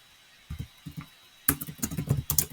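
Keys on a computer keyboard are typed as a command is entered: a few quiet taps first, then a quicker, louder run of close keystrokes.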